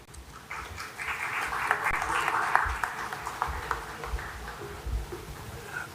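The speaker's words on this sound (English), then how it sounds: "So, ladies and gentlemen, requesting a round of applause to welcome him." Audience applause at a summit to welcome a guest speaker, a moderate crowd clapping steadily that swells and then thins out, with some murmur underneath.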